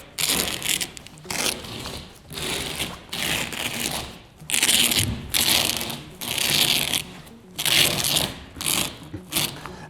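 A Rough Country soft roll-up tonneau cover on a 2022+ Toyota Tundra bed is rolled up in repeated bursts of rustling, scraping and clicking, each push a second or so long with short pauses between.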